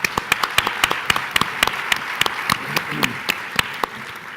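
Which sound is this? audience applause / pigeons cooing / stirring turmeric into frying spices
audience applause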